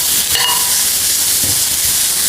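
Vegetables with grated medium carrot sautéing in a pan as a dosa topping, a steady loud hiss and sizzle filling the whole stretch, with a brief stir scrape near the start.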